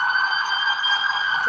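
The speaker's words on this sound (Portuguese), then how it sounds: "Tem uma ambulância aqui." An ambulance siren passes outside, a sustained, loud, high wailing tone that holds steady throughout the short stretch, with no talking.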